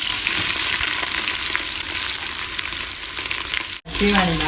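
Cinnamon, cloves, cardamom and onion fry in hot oil for a bone marrow biryani, a loud, continuous close sizzle with stirring, cut by a sudden brief drop before a voice starts at the end.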